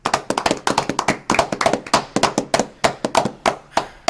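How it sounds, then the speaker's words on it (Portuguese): Enthusiastic hand clapping from a small group in a radio studio, a dense, steady patter of close, loud claps sustained without pause and with no talk over it. "para a gente bater uma grande salva de palmas ao seu Portolã"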